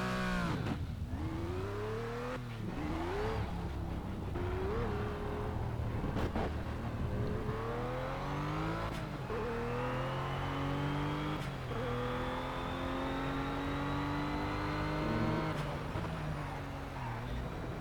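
A Ruf RT 12 R engine in Project CARS on the Nürburgring revs repeatedly, climbing and falling in pitch through gear changes, steady and fairly quiet, with no one talking.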